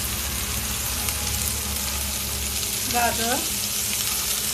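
Brown rice vegetable pulao with onion, moong and carrot sizzles steadily in a pan, a constant close hiss throughout, with a brief spoken word partway through.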